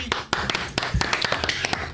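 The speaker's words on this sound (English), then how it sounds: "I do have applause" Applause sound effect on a livestream, a burst of crowd clapping with brisk irregular claps, fairly close and loud for the whole stretch.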